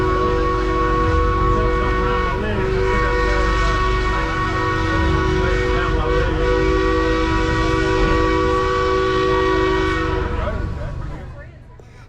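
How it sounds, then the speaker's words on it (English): A narrow gauge steam train sounds a long, sustained whistle in a Colorado canyon on the Silverton line. The loud, steady tone holds for about ten seconds and then fades away with an echoing tail. "echoing of the steam whistle in the canyon was exciting"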